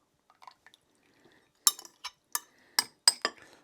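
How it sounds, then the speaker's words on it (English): A spoon clinks against a bowl while scooping mashed ingredients for a homemade natural energy drink: faint soft taps first, then five or six crisp, close metallic clinks in an irregular rhythm. "And you can literally just spoon that in there"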